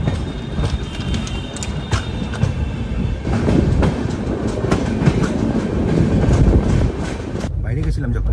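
A passenger train running on rails between Ayodhya and Delhi, with loud, steady rumble and rhythmic clickety-clack of wheels over joints close by, the noise thinning out near the end.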